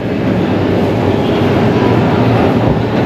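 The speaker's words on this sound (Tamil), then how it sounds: "வேர்ல்ட்லேயே டீப்பஸ்ட் மெட்ரோ ஸ்டேஷன் இங்கே தாங்க இருக்குது." A loud, continuous low rumble of trains and machinery fills a Moscow metro station, the deepest in the world, as a dense, unbroken roar without pauses.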